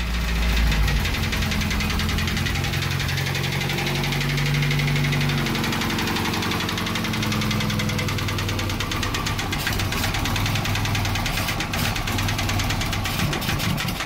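A 1982 Triumph TR7 engine runs with a knocking noise, a loud rough idle full of rapid mechanical ticking and clatter that continues throughout.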